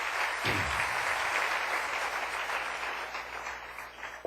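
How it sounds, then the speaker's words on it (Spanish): A congregation at a church worship service breaks into strong applause for the King, a dense wash of clapping that swells early, holds, then gradually thins toward the end. "Le puedo dar un aplauso fuerte al Rey bendito."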